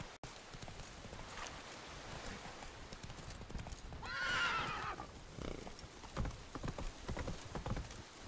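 Hooves of the horse Roach clip-clop in a steady gallop within a video game, broken midway by a loud, drawn-out whinny, while quieter ambient sound runs underneath.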